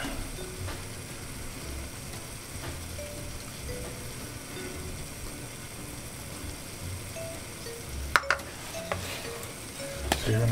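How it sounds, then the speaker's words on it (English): Paprika being stirred into beef stroganoff in a pan, a steady soft scraping and sizzle running throughout with a few sharper utensil knocks near the end, no talk. "So you want to give that a good mix in as well"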